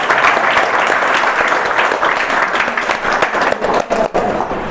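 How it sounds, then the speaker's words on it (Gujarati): An audience at a spiritual gathering claps in sustained applause. The sound is loud and dense and fairly close, and it starts to thin and break up toward the end. "ઓકે, તો આપણે મામા માટે તાળી બીજી પાડીએ"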